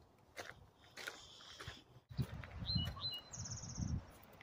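Faint, high bird chirps come in short bursts over soft crunching footsteps on Parleys Trail.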